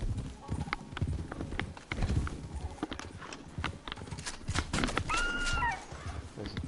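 Horse hooves in Red Dead Redemption beat in a steady run of clip-clop strikes at close range, with someone talking over them throughout and a brief whinny-like call late on.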